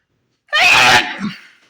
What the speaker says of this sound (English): I'm about to sneeze right quick